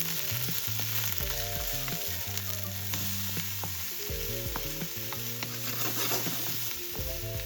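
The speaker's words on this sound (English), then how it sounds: "Heat sesame oil in a frying pan over medium heat. Add the sliced vegetables and stir fry." Sliced vegetables sizzle and crackle steadily in sesame oil in a frying pan over medium heat, stirred now and then, with tonal background music running underneath throughout.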